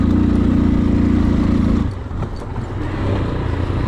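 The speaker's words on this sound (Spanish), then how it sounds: "Y tiene torque la moto." An AKT TTR 200 motorcycle, a 2023 model, runs off-road on a rough trail, its engine a loud, close, steady drone that dips briefly midway and then picks back up, with no speech.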